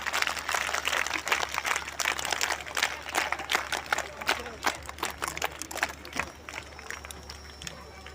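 An audience at a large outdoor school event does a scouts clap, a fast rhythmic patter of many hands that carries on steadily for several seconds with crowd noise and a voice over it.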